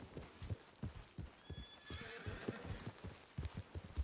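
A horse in Red Dead Redemption 2 whinnies once midway while its hooves clip-clop in a steady walking rhythm throughout, close and moderately quiet, with no talking.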